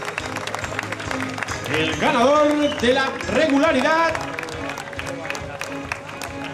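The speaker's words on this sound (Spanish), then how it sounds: "Fuerte aplauso, por favor" Applause and cheering from a crowd swell up behind an announcer speaking Spanish over a loudspeaker at a cycling race in Mallorca, with music or voices mixed in.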